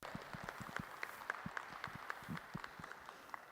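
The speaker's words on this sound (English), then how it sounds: "give the Guernsey Juniors a nice round of applause" Audience applause at a junior Guernsey cattle show, with fairly quiet, sparse and uneven clapping from a modest crowd that carries on steadily.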